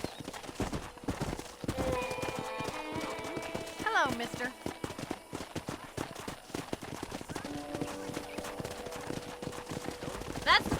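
A horse trots along in Red Dead Redemption, its hooves clip-clopping in a steady, close rhythm for the whole stretch while a voice speaks briefly.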